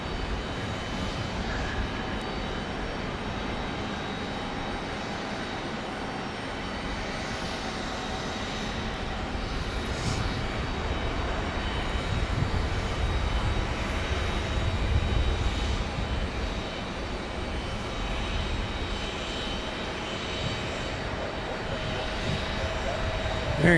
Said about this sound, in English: Frontier A320neo.